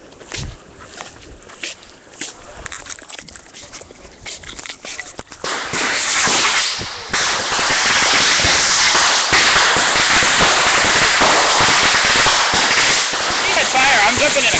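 Fireworks and firecrackers go off at a backyard family show, starting as scattered pops and crackles, then swelling after a few seconds into a dense, loud, continuous roar of bursts. People can be heard under the noise.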